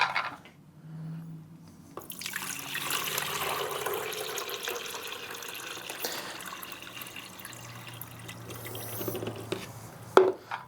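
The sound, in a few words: water filling Rancilio Silvia espresso machine reservoir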